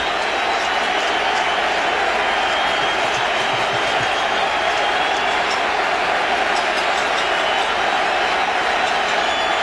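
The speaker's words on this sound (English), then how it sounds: "the big crowd, many of them have risen to their feet here. So Yankee Stadium has come alive" A big crowd at Yankee Stadium roars steadily through a 2003 Twins ALDS baseball game, a loud, sustained wall of cheering with no break.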